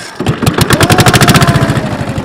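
A small boat engine chugs loud and close, its rapid even pulses steady after a brief start, towing a boat on a river trip at Pagsanjan.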